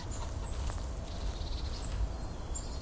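Chickens in the video game Bear Simulator cluck faintly and intermittently over a steady, low ambient rumble, with no talking.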